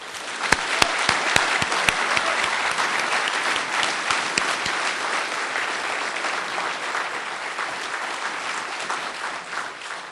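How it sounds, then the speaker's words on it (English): A large audience at a mathematics graduation ceremony claps steadily for the graduates, a dense sustained round of applause with a few sharp nearby claps at the start, holding for the full length. "we should give one round of applause to our graduates"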